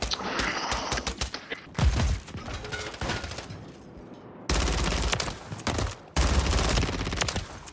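Bursts of automatic fire from an ISO 9mm submachine gun in a first-person shooter, several loud rapid strings of shots separated by short gaps, close and alone.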